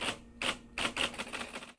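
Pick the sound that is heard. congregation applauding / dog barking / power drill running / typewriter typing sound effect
typewriter typing sound effect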